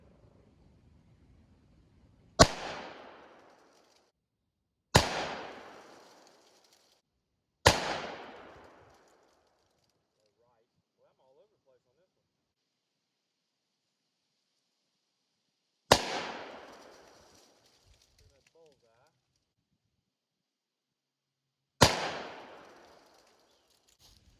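Five single-action shots from a Ruger SP101 revolver at a range, each a sharp loud crack with a short decaying tail, spaced several seconds apart with near silence between them.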